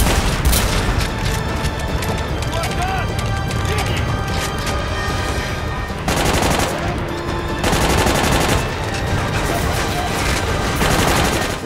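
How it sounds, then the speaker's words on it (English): Rapid gunfire from the video game Army of Two, with dense bursts and booms running loud almost throughout, briefly easing around two spots before resuming. "Watch it, someone's shooting you."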